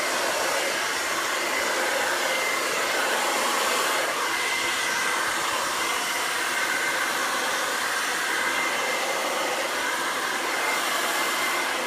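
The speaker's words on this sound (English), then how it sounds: "you're kind of following your brush with the blow dryer" A blow dryer drying hair gives a loud, continuous airy whoosh with a steady motor whine, holding level throughout with no talking.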